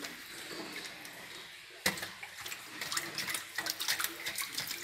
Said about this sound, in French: Là derrière, il y a pas mal d'eau.